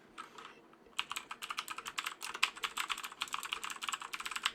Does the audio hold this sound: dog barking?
no